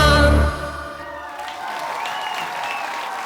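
Loud audience applause fills a television studio during an Armenian TV celebrity duet show, rising as the music ends and continuing as a steady, dense clatter of many hands.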